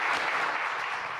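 Steady applause from a podcast audience, dense clapping filling the whole moment at a constant level with no voices over it.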